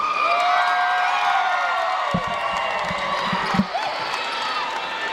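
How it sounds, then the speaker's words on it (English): Monument Valley fans cheering at a boys 3A state high school basketball playoff game against Snowflake, a steady crowd roar with whoops, and a few ball bounces or thumps midway. "Huge shout out from the Monument Valley fans cheering for those boys."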